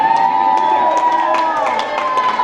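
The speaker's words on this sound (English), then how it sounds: "Come on, guys, let's cheer on." School children at a middle school cheer and shout together in a lively, continuous crowd roar, loud and close throughout.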